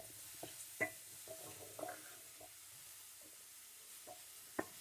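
Crunchy vegetables for pasta sauté in a pan, giving a soft, steady sizzle with occasional stirring scrapes and light clicks of a utensil against the pan, close and fairly quiet with no talking.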